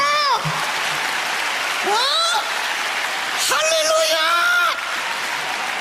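A prayer-meeting congregation claps hard in a steady wash of applause beneath a loud voice shouting exclamations over it, the clapping holding on throughout.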